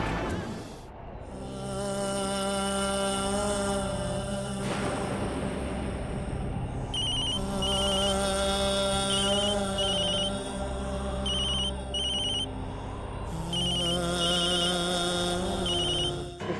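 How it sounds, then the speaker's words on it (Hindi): A phone rings continuously, a melodic electronic tone repeating in bursts with short pauses, loud and near, with no talking. "फोन उठा लीजिए, दादी की जान सूखी जा रही है।"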